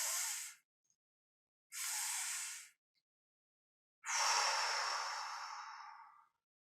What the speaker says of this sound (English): breathe in partway and pause and continue the inhale again and release a full, smooth exhale